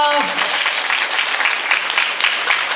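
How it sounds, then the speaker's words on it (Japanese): Audience applauding after a short comedic stage play about Rai San'yō, steady dense clapping throughout, with a voice briefly heard at the start. "みのみ先生に大きな拍手をお願いいたします"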